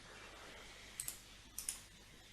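Computer keyboard keys pressed to enter a mirror command in drafting software, two quick pairs of close, soft clicks over a quiet room hum.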